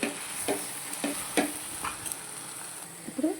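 A curry masala for brinjal and chickpea curry sizzles in a pan while a spoon stirs it, giving several sharp scraping strokes over a constant soft frying hiss, close and fairly quiet.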